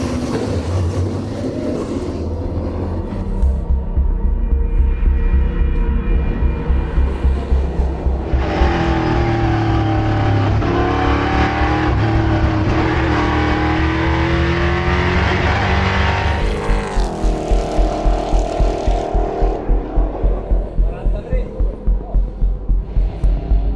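A EuroNASCAR race car on used tires laps a 2023 practice session at Most. Its loud engine roars steadily close up, with revs climbing and dropping through gear shifts.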